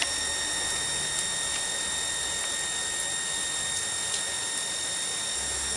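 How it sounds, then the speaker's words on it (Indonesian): The pump motor of a humidity-controlled misting sprayer for growing mushrooms runs with a steady high-pitched electric whine and a constant hum, with faint ticks over it and no talking. "ini akan menyalakan mesin pompanya"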